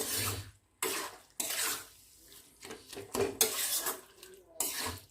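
A spoon scrapes and stirs mutton keema with tomato in a pan, in bursts of rough metallic rasping broken by short pauses. The sound is close and fairly clear.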